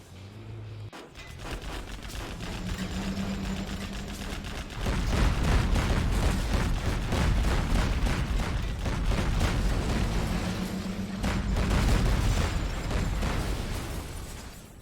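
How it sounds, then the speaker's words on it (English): Tank autoloaders firing in Command & Conquer Generals, with repeated heavy booming shots and blasts rumbling loudly over sustained battle noise, in dense clusters with a brief lull between volleys. "You can see the screen shaking now when the autoloaders are firing."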